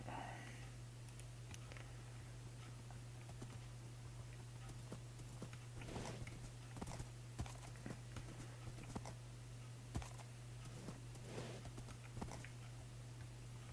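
Horse hooves clip-clop in a Minecraft-style survival game, a steady run of soft, fairly faint clopping footfalls over a constant low background hum, with no talk.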